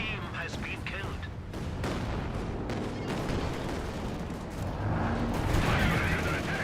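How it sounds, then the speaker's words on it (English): A Calliope rocket barrage in Company of Heroes 2 rumbles with a stream of launches and booming impacts building in intensity, while a commentator talks over it. "Calliope rocket barrage trying to hit those grenadiers."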